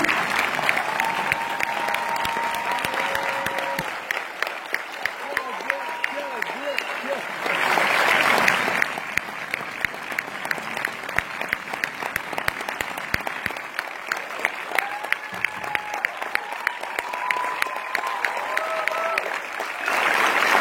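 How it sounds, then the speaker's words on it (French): Audience applause fills a cinema hall at a film premiere in an UGC theatre, dense steady clapping running throughout at close range, with speech and whoops overlapping in places. "Merci d'applaudir Camille Senois"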